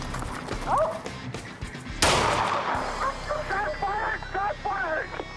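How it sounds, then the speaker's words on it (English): A single sharp gunshot cracks out close by at a police call where an officer and his police dog respond, standing out as one loud burst amid background voices and bird-like chirps. "Shot fired!"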